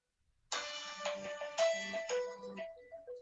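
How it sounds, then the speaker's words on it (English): A mobile phone rings with a melodic ringtone that starts abruptly and plays a sequence of bright tones, fairly loud and close, during a Hindustani classical vocal lecture demonstration. "I'm sorry, my phone is ringing."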